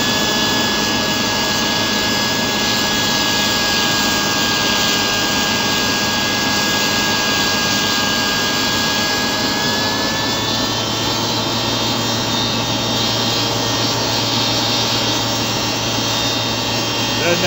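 A homemade tin can jet turbine engine runs continuously, a loud steady roar with a high whine that shifts pitch partway through as the engine changes speed.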